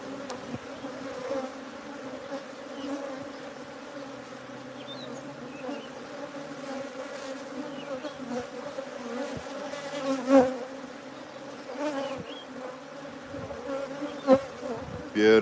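Honeybee drones and workers buzz at a bee sanctuary, a continuous close, droning hum with occasional louder passes as bees fly near.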